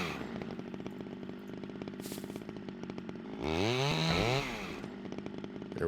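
A chainsaw in the survival game SCUM starts and idles with a steady buzzing drone, then revs up loudly for about a second before settling back to idle.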